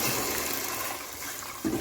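Water pours steadily into a pot, a continuous splashing rush that swells briefly near the end.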